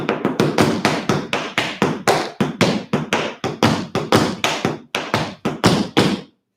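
Crisp tap shoe strikes ring out alone in a steady rhythmic pattern, about three or four hits per second, as a tap dance step swings into a scuff on the right side, each tap sharp and close.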